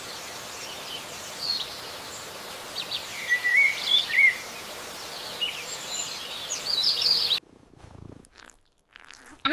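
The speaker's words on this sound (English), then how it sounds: "Good night, little kitten." A rescued, recovering kitten purrs with a steady, soft, close rumble for about seven seconds, then falls quiet.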